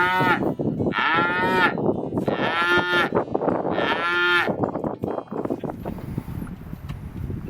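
Several cows on a family cattle ranch moo in turn at feeding time, long drawn-out calls close by, with shuffling and clattering farmyard noise in between.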